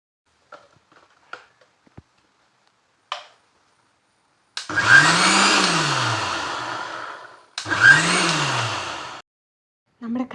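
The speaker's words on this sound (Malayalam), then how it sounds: "നമുക്ക് നമ്മുടെ തൈരൊന്ന് അരച്ചെടുക്കാം" A mixer grinder blends homemade curd for a rambutan pulissery curry, running in two loud, whirring bursts of about three seconds and one and a half seconds, each followed by quiet. A few faint kitchen clicks come before the bursts.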